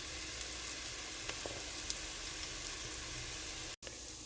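A flour roux sizzles and fries steadily in a large 5-liter soup pot, a soft continuous crackle with faint stirring ticks, close and quiet with no talking.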